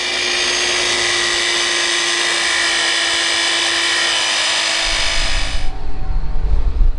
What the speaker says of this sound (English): I'm gonna try and grind off these. I'm gonna try to make a cylinder stop.